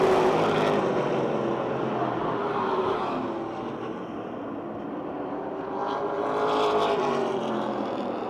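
Race cars roar around the Motordrome Speedway oval just after the green flag, a dense, loud engine drone that swells and fades as the pack passes, with no talk over it.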